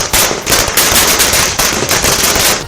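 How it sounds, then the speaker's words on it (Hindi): Firecrackers and fireworks burst in rapid, loud, crackling volleys at an outdoor BJP election victory celebration, continuous popping with no talk. "आतिशबाजी का दौर शुरू हुआ तो शोर बंद ही नहीं हुआ"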